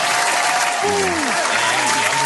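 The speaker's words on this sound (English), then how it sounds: "I might have some applause sound effects." Canned applause sound effect, a dense burst of clapping with a faint crowd edge, loud and steady for a couple of seconds with no talking over it.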